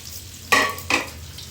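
Ginger-garlic paste and whole spices, including cashews, raisins and peppercorns, fry in a pan over a soft background sizzle. Two close, quick bursts of stirring and frying rise sharply from it.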